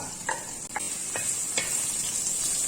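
Chopped onions go into okra frying in a pan, a soft continuous sizzle with a few light taps and stirs, no talking.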